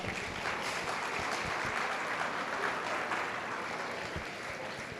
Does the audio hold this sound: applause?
yes